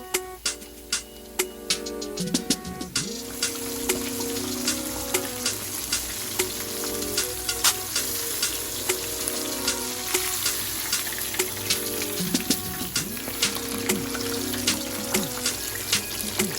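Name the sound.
porgy fish frying in hot oil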